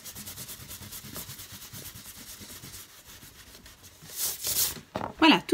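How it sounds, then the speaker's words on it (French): An eraser rubs back and forth across paper to clear pencil lines from a gift-box template, producing a steady soft scratching that grows into louder, brisker strokes near the end. "je préfère à présent gommer tous mes traits"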